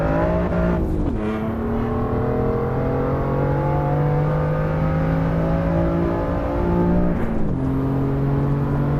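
A sports car engine in the racing game Assetto Corsa Evo holds a loud, sustained drone that rises slowly. Two quick dips and re-climbs in pitch suggest gear shifts, and no talk is heard.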